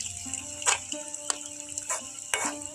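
Drumstick flower pakoras frying in oil heated on high, a soft continuous hiss broken by a few louder crackling bursts, heard close and fairly quiet, with faint tonal sounds underneath.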